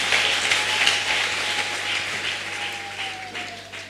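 A church congregation applauds together in a steady, sustained wash of clapping that holds fairly loud throughout, with a faint tonal hum running beneath.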